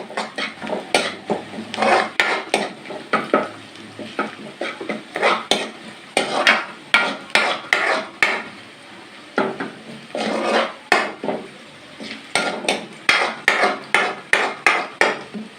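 Ginger garlic paste being stirred in a cooking pot with ghee, a spoon scraping and clacking against the metal in quick rhythmic bursts, close and fairly loud, with no speech.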